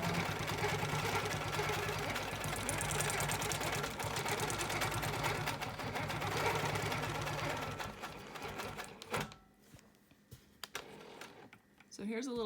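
A sewing machine quilts a wholecloth quilt along a ruler, running steadily at close range for about nine seconds before stopping, followed by quieter handling noises.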